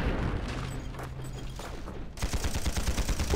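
Gunfire in the tank combat video game Panzar: a loud, dense burst of rapid shots and impacts, then a faster rattling volley at the end.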